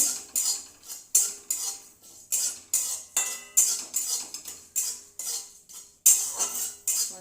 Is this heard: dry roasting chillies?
yes